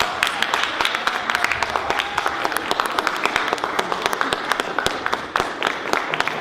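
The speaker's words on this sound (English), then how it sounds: "Big round of applause" Students applaud at a school mock presidential debate, a steady burst of clapping filling the room for several seconds with crowd noise, and a voice briefly heard over it.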